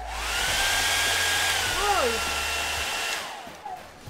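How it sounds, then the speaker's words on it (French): A hair dryer blows through a cut plastic bottle, giving a loud, close, continuous airy roar with wavering whistling tones that stops abruptly near the end, leaving faint room noise behind. "Je vais aller chercher un sèche-cheveux, une bouteille, je vais tester ça tout de suite."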